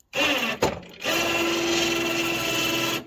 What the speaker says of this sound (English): On this one, it's got that Harbor Freight winch.